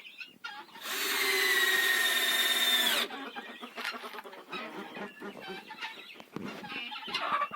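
A laying hen in a village coop inspects a new nest box, letting out a sustained, loud squawking call followed by softer clucks and scattered rustling.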